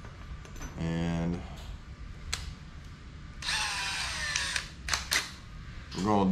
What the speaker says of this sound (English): we're gonna do some pilot holes in this. I'm gonna drill one on this side and one on that side